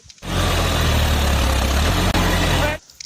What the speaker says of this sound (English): Wow, this is a John Deere tractor.